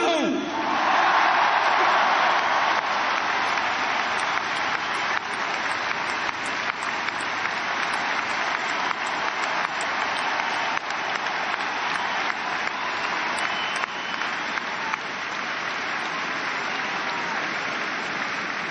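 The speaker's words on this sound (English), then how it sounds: "This man, you have to give him the biggest round of applause of the day" A large hurling final crowd applauds for Micheál Donoghue, a loud, dense, sustained wash of clapping and cheering that stays steady throughout with no pauses.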